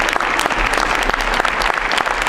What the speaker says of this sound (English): I think it's worth it for us to give another round of applause for that incredible choir from Richmond College Prep.